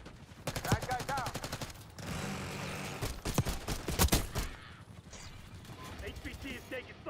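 Bursts of gunfire crackle in a Call of Duty match on the Skyline map, sharp shots and rapid volleys clustered around the middle, mixed with game voice lines and other sound effects.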